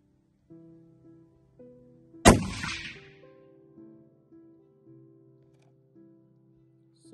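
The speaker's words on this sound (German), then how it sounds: "Und nochmal einen Kontrollschuss machen." A single sharp rifle shot cracks out while sighting in a hunting rifle with precision ammunition, loud and sudden with a short decaying tail, alone amid faint background tones.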